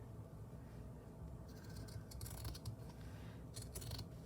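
Scissors cut through paper for the cover of a handmade craft book, giving a few quiet, close snips in short clusters against a soft background.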